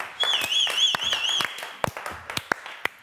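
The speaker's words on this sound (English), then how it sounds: "the ladies are going to give me a big round of applause" Scattered hand claps and taps from a small group of women in a TV studio audience, with a sustained whistle-like tone warbling over the first second and a half.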